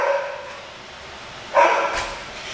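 Two 12-week-old puppies at an animal shelter, with a faint bark early on and then one sharp, louder yip near the end, heard close and alone without talk.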